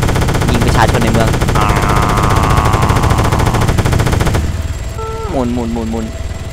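Sustained machine-gun fire from a helicopter in ARMA 3, aimed at civilians in a town, rattles loud and continuous for several seconds, then cuts off under a rotor hum while someone talks over it.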